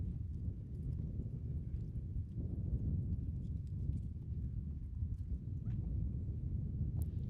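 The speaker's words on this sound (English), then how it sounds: "Alan and Art, you can ride in." Horses enter a rodeo arena at a team roping qualifier, their hooves clip-clopping steadily on the ground beneath a constant loud low rumble of crowd and wind.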